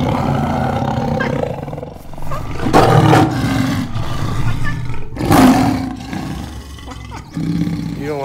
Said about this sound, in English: Look, Bub, it's a lion.